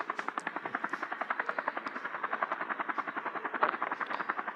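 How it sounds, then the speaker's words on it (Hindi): A helicopter in a zoo keeper video game flies in a lion, its rotor chopping in a fast, steady pulse throughout, fairly loud and close with no voices. "ये तो साला जानवर है फिर भी इसको हेलीकॉप्टर से लाया जा रहा"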